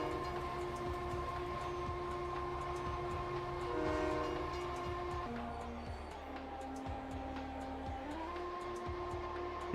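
A freight train hauling coal in the factory-building game Satisfactory rolls along, producing a droning, reedy accordion-like tone that shifts pitch as it changes speed, with a steady mechanical rumble underneath throughout.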